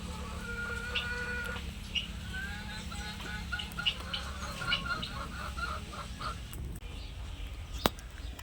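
Country chickens on a village poultry farm in a lemon orchard cluck and call in scattered short bursts, fairly faint over a low background hum, with one sharp click near the end.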